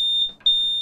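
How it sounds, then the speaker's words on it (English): An industrial facility fire alarm sounds a loud, steady high-pitched electronic tone, broken by one short gap, heard alone and close. "that is the fire alarm"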